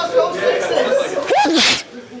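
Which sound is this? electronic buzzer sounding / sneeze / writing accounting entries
sneeze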